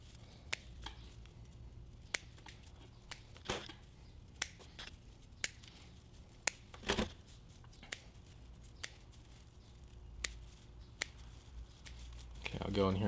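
Pruning shears snip back candles on a black pine bonsai, a scattering of sharp, close clicks and cuts spaced irregularly over quiet background noise, with a soft rustle at the end.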